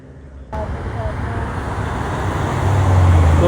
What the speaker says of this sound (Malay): BMW M4.